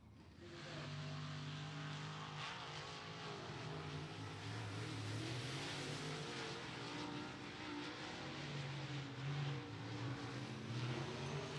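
Open-wheel modified race cars run on a speedway track during qualifying, a faint distant engine drone that rises and falls steadily throughout.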